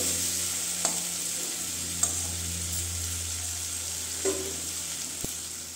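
Chicken pieces for butter chicken sauté in a pan with an even, constant sizzling hiss, broken by a handful of sharp spoon taps and scrapes spaced a second or two apart.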